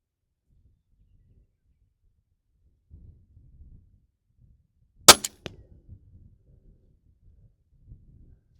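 A crossbow shot fires with one sharp, loud snap, followed by a quick second thud and faint rustling in an otherwise quiet outdoor setting.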